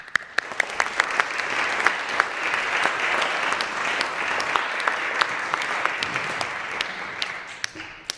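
A room of listeners gives warm, sustained applause at a church faith formation gathering, dense steady clapping throughout with a few sharper individual claps standing out, close and loud.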